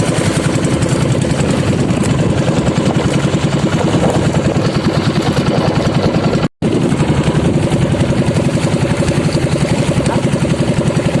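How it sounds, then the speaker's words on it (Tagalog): A motorcycle engine idles steadily nearby with a rapid, even putter throughout, interrupted briefly by a short dropout midway. "Tingnan yung motor ni Lindro."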